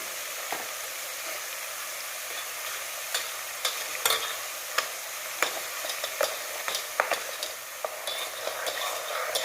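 Seasoning crackles and sizzles in hot oil for a mango-ginger pickle, a steady frying hiss with scattered sharp pops and spatters throughout, close and fairly soft, no talking.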